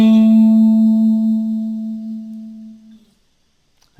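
A single electric guitar note from a solo rings out with a bright harmonic sustain and slowly fades to silence over about three seconds, ending in a faint pick noise.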